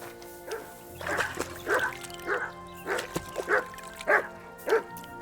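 Mutt the dog in Kingdom Come Deliverance 2 gives a run of short, sharp barks and yips at an even pace, close and fairly clear over quiet game ambience.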